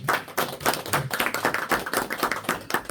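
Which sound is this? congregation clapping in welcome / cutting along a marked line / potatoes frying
congregation clapping in welcome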